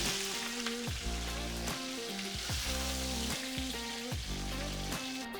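Pork pieces brown in a hot pan with a steady, moderate sizzle that swells and settles at regular intervals, heard alone without speech.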